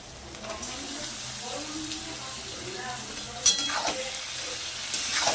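Bombay duck fish sizzles in hot oil in a pan, a soft steady frying hiss with scattered clinks and scrapes of a spoon, one sharper knock near the middle, no voices.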